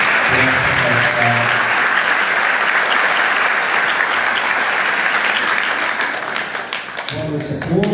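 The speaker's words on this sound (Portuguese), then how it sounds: "o nosso aplauso aos festeiros e capitães de mastro por essa festa." A congregation at the closing Mass of a Festa do Divino in a parish church gives sustained, dense applause that holds loud, then eases off as a voice begins speaking near the end.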